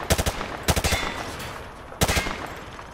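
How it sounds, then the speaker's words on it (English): Weapon fire in the video game Modern Warfare 2 Remastered comes in three quick bursts of rapid, sharp shots spaced about a second apart, loud and close, with no talk. "Grab that weapon off the table and fire at the targets behind you."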